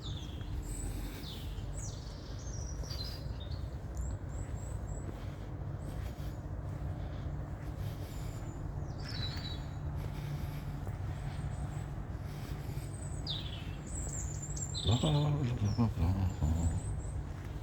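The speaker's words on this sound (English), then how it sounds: "You can hear the birds chirping away." Birds chirp in short high calls scattered through a sunny early-winter nature walk around a historic town in Swindon, set over steady low outdoor rumble with occasional voice sounds.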